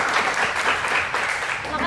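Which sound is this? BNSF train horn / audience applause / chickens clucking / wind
audience applause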